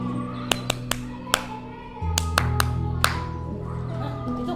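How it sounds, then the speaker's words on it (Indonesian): Students in a vocational school classroom clap in a loose group, giving a series of sharp, unevenly spaced claps over a steady background hum, with some people talking. "Tepukannya 5 kali."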